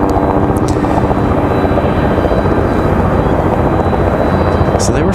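The ABC 11 Sky 5 news helicopter passes near an airport, its dense, steady rotor and engine roar loud and constant throughout, with no talk heard over it.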